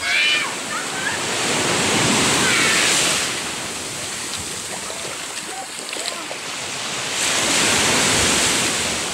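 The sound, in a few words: ocean waves on the beach of Talikod Island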